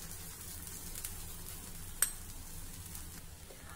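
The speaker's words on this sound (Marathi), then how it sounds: "आता दोन्ही बाजूनी हे धिरडं छान खमंग होईपर्यंत, खरपूस होईपर्यंत आपल्याला भाजायचं आहे।" Gram flour dhirda pancake frying in oil on a pan gives a steady, quiet sizzle with a faint hiss, broken by one sharp click near the middle.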